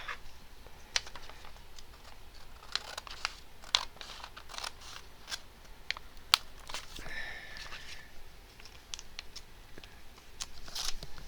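Scissors snip through paper close at hand while it is trimmed down for a gluebook page, giving irregular sharp cuts and rustles with short gaps between them and no talk.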